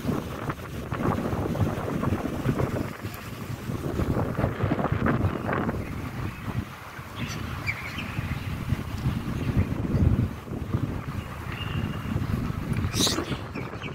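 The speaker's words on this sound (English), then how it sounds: "I don't know if you guys can hear me or not, but it's actually windy" Gusts of wind buffet the microphone in loud, rumbling bursts throughout, with a faint distant background beneath.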